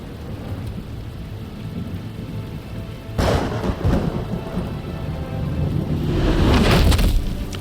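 Rain and thunder in a Batman Telltale Series video game scene: steady rain hiss throughout, with a loud rumbling thunder burst at about three seconds and another swelling roll near the end.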